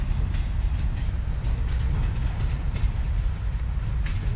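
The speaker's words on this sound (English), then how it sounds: "LNC Train 12 heading eastbound past Circle S Ranch." L&C Train 12, led by locomotive 2829, passes eastbound on the L&C mainline at Chester, South Carolina, giving a steady close rumble of railcars with faint rhythmic clacking of wheels over the rails.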